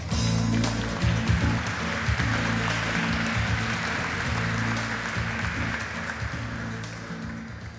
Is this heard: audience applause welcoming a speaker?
yes